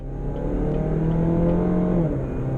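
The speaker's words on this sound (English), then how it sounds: "I'm going to pull the paddle and change gears" A 2016 Chevy Camaro turbo four-cylinder revs steadily from inside the cabin, then its pitch drops sharply as a paddle-shift gear change occurs, with a low hum continuing beneath.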